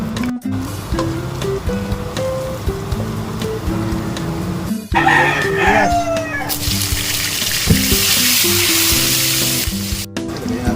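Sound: sautéing shrimp and tomato in a pan

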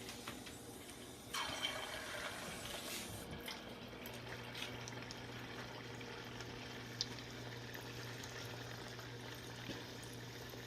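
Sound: paniyaram dough balls frying

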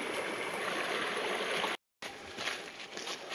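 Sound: small stream flowing

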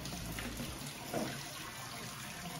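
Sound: rinsing canned cannellini beans under running tap water

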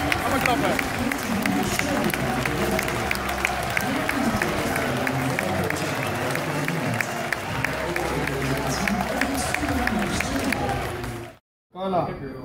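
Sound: audience clapping

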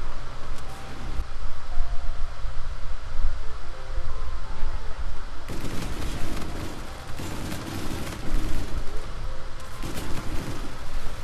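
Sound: Auger LMG gunfire in Infinite Warfare video game

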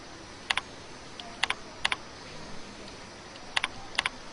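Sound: typing on a computer keyboard

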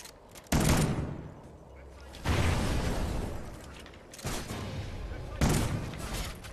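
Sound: gunfire in Call of Duty Ghosts video game

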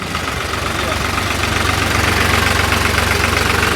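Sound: vehicle engine running in gear

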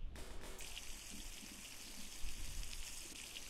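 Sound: water being filled in, video game The Long Drive

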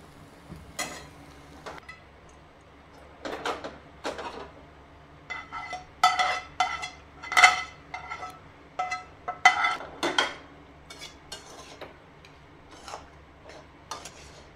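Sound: stirring fried bitter gourd seeds into filling in a kadhai

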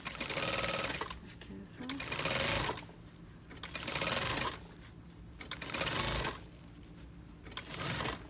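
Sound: sewing machine stitching a zipper onto a bag

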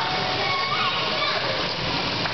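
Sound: child swimming and splashing water

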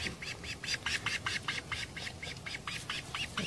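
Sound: bird chick squawking

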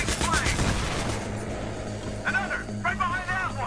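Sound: gunfire in the video game Battlefield 3

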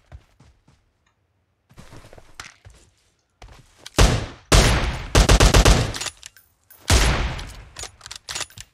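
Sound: gunfire from the video game PUBG Mobile

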